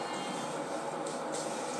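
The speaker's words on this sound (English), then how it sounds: "I've just put the kettle on, it's nearly done." Electric kettle close to the boil, a steady broad rushing hiss with a faint rumble, held evenly for under two seconds with no talk.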